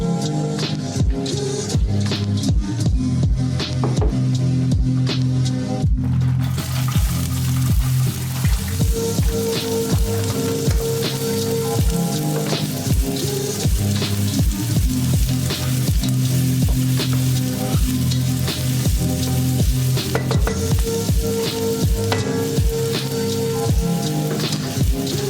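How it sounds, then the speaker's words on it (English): Chopped onions sweat in extra virgin olive oil in a pan, giving a loud, steady sizzle with dense crackling and sharp popping spatters throughout, close up and with no voices. "use extra virgin olive oil and gently sweat off the onions for about 3 minutes"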